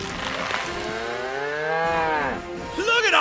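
A cow moos loudly in one long, drawn-out, wavering low call lasting about three seconds, close by and clear with no talking over it.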